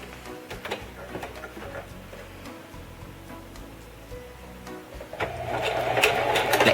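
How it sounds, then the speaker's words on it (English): A sewing machine stitching tulle near the top edge for a ribbon-trimmed tutu, an uneven rapid ticking of the needle with pauses, growing louder and faster as it runs steadily near the end, close by and without talk. "we're going to stitch as close to the top as we can"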